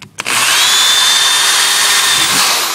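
A power drill bores a hole for a magnetic self-closing pool fence gate latch. It gives a brief stutter, then a loud, steady high whine held close for more than two seconds.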